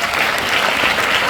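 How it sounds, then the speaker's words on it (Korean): Audience at a Nu Skin sales rally in a hall breaking into loud, dense applause, a short burst of crowd clapping filling the moment. "박수 한번 주시겠어요?"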